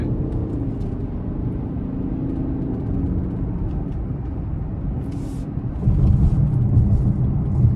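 A 2026 Lincoln Corsair Grand Touring accelerates in Excite mode, its engine a steady low rumble heard from inside the cabin that swells louder toward the end.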